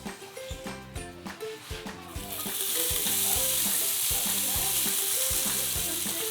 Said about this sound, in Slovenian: Ponovno imam segreto, pa damo kar malo olivnega olja, pa krompirček noter.